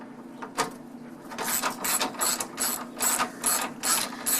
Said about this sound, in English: I'm going to take a ratchet here and do this front bolt here.